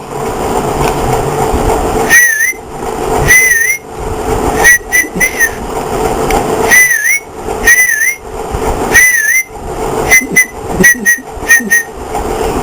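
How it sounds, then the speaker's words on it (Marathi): Repeated short whistled phrases, rising and falling, come in bursts of two or three over steady background chatter and room noise. "कोण शिट्टी वाजवतंय?"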